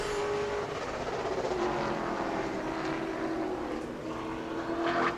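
Pro Late Model race car number 54 on a qualifying lap at New Smyrna, a sustained loud engine roar holding steady across the stretch, with a rising whine near the end as it comes down to the checkered flag.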